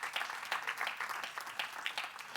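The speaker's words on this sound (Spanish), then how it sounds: "¿Cuánto le da un aplauso al Señor en esta noche?" Church congregation applauding during an evening service, a fairly quiet but steady patter of many hands with slight swells in intensity, no one speaking over it.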